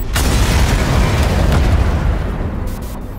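Bombing explosions from a video game trailer, a loud, sustained rumbling roar of blasts that fills the whole moment and slowly fades, with no voices.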